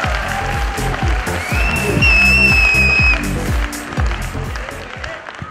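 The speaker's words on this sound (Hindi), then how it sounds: "तो जोरदार तालियों के साथ प्लीज वेलकम" An audience claps to welcome a speaker to the stage: loud, rhythmic clapping with a few whistles rising above it, then fading as the applause dies down.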